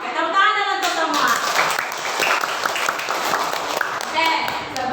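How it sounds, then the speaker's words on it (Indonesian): A classroom of students claps their hands together, the spread of claps steady and fairly loud across the whole stretch, with children's voices mixed in near the start and end. "Oke, tepuk tangan untuk semua."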